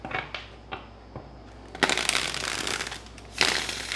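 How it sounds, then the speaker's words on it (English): Tarot cards being shuffled in bursts: a few soft riffles and taps, then two louder, dense shuffling runs close by, with no talking. "Okay, 1 more shuffle."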